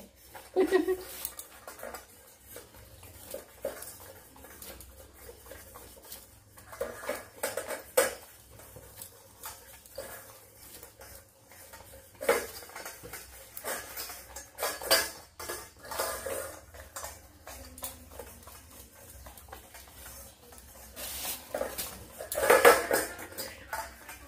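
An animal eats from a metal bowl and licks it clean, making intermittent clinks and scraping rattles of the dish with soft wet lapping between them, while a person talks now and then nearby.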